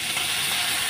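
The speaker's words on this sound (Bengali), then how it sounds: "আর এদিকে দেখো মাছ ভাজাটা আমি বসিয়ে দিয়েছি" Fish fries in a pan with a steady, loud, dense sizzling hiss that stays unbroken for a moment.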